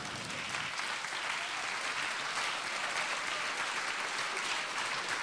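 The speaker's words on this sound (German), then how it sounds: "Bitte klatschen Sie in Ihre Hände." Audience applause at an anniversary event of a German university of applied sciences, a steady dense clapping from a crowd, moderately loud and sustained throughout without a break.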